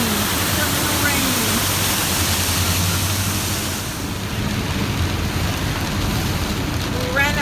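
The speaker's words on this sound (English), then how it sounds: "A little rain, just a little rain." Steady rain hisses down close by in Puerto Rico, a continuous wash of drops on surfaces with no break.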